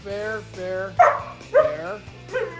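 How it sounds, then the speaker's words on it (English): A dog barks and yips several times close by, tonal and whiny with a few sharper accented barks, while a person speaks. "dog's barking"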